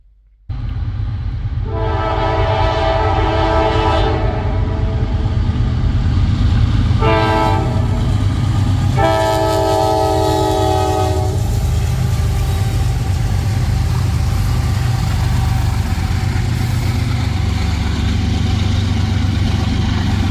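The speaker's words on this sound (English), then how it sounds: "Holy locomotives. There were 6 of them on that thing." A long freight train hauled by six locomotives passes in fog on the Norfolk Southern Fort Wayne Line. A loud, steady rumble of wheels is broken by several blaring horn blasts, heard close and continuous throughout.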